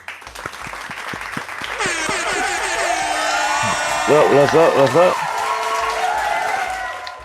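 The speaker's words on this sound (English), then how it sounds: "Can we clap it up," A podcast studio audience applauds steadily with claps and cheers, while a voice speaks briefly over the noise.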